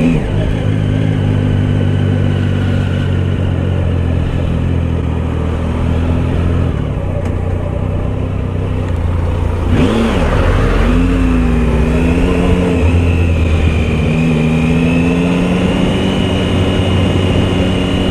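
A Triumph Tiger Sport 1050 Triple motorcycle is ridden on the road, its engine droning loudly and steadily, then swelling sharply as the revs climb partway through before settling into a higher, sustained pitch; no one speaks.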